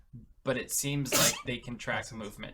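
A single loud, sharp sneeze bursts out at close range amid ongoing conversation, with people talking before and after it.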